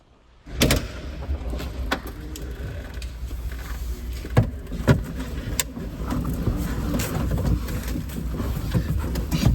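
A race car engine starts with a sudden rush, then runs with a rough, rattling rumble and scattered mechanical clicks that build slightly as it drives off.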